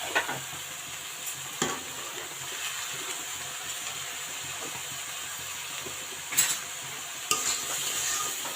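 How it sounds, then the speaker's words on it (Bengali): Spices frying in a pan with chili powder and turmeric, a soft steady sizzle with a few scrapes of stirring, fairly quiet and close, no voices. "সব কিছু নেড়ে চেড়ে নেব"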